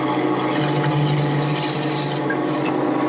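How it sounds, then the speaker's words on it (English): A 3/8 inch gouge carves a cove into wood, producing a continuous close rasping scrape that runs the whole time with brief shifts in pitch and no voices. "Now I've switched to a 3/8 inch gouge, and I'm going to work on this section right here, creating a cove."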